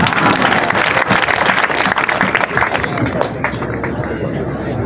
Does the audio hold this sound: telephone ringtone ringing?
no